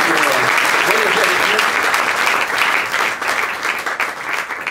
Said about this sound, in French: On applaudit s'il vous plaît les amis.